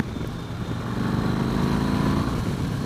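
The engine of a 2015 Yamaha Star Raider cruiser motorcycle is held at high revs near the rev limiter, giving a loud, steady, continuous drone throughout.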